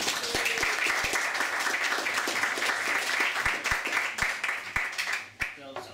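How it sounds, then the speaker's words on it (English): An audience applauds steadily, dense clapping from many hands that thins out toward the end, with a few louder single claps standing out. "So can we just give Tom a big round of applause?"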